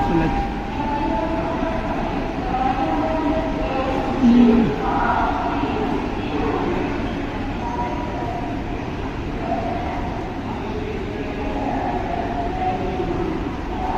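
Inside SMVT Railway Station in Bengaluru, a steady rumble of trains and platform bustle fills the space, with distant voices and a brief faint horn-like tone midway.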